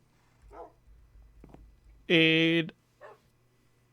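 A Minecraft wolf gives one short, loud, tonal yelp or bark partway through, clear and close, while someone speaks quietly around it.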